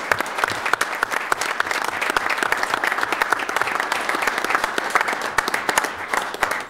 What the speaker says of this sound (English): I think you deserve a round of applause for all the effort you put into this